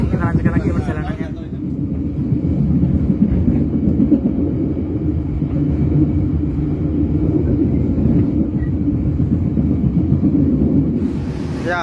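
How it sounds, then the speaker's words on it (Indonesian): The Mutiara Timur passenger train rumbles steadily on its rails, heard from inside a business-class car with a continuous low drone and rhythmic rattling throughout. "kereta api Mutiara Timur sudah tiba di pemberhentian pertamanya"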